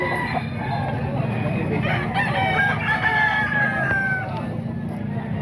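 A Boston Roundhead rooster, nine months old, crows at a Grotto flea market, its drawn-out call rising over a steady din of other fowl clucking and crowing nearby.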